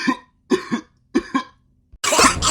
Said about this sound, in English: Oh no, all the people have coughing.